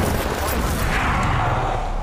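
Kraber sniper rifle fire in a fast online shooter game, loud sustained burst of booming gunfire filling the whole moment, close and harsh.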